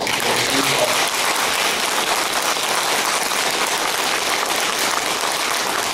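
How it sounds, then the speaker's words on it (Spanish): A crowd at a municipal council session gives strong applause for the mayor-elect of Santo Domingo Este, a dense, loud, rain-like roar of clapping that stays constant throughout. "yo le pido a todos y a todas que le tributen un fuerte aplauso"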